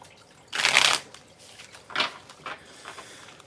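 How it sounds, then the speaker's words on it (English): A deck of tarot cards is shuffled close up, one loud riffle followed by two shorter, softer riffles. "Let me shuffle this real quick."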